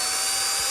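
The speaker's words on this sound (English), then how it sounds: "I'll show you the drill just to kind of give you an example of how that might work" An electric drill whines steadily at close range, cutting into the casing of a Lightning Network sweet and candy dispenser machine, a brief continuous burst with no talking.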